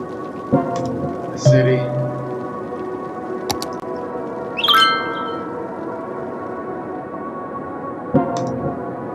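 Thunderstorm weather in a city-building video game: steady rain hiss with occasional sharp thunder cracks and rumbles, loud and close, no talking.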